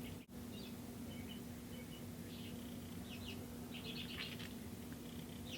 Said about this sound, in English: I don't know if you can hear that bird right outside my window